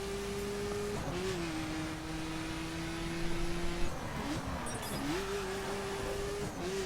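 A Mini Cooper S in the racing game The Crew holds a steady engine drone that dips and climbs as it shifts and accelerates, a bit sluggish, fairly loud and continuous with no talk.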